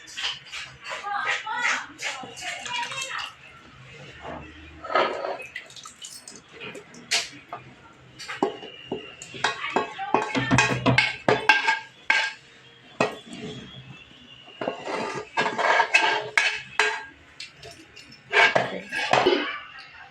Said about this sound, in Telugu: అల్లం వెల్లుల్లి పేస్ట్ వేసిన తర్వాత బాగా కలుపుకోవాలండి